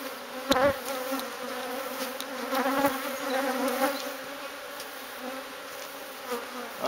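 Honeybees swarming around a hive being cut out of a drum, a dense continuous buzz close to the ear with individual bees droning past, and a few knocks and handling thumps.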